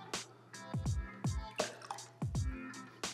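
Water is flushed through a sausage casing while making pineapple teriyaki sausages, giving a run of close, wet squishing and dripping sounds with irregular splats and gurgles.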